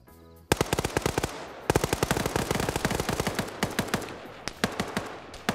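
Rapid automatic gunfire from a multiplayer shooter video game, with sustained machine-gun bursts rattling close and loud for several seconds, broken by a short pause.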